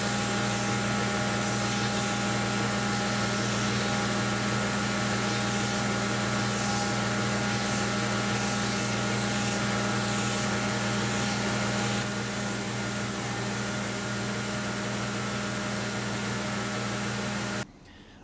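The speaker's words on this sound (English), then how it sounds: "if you do the top of the knife on the belt routine like I'm doing here" A belt grinder shapes the top edge of a forged utility knife, giving a long, steady abrasive whir with a constant motor hum. It drops slightly in level partway through, then cuts off near the end.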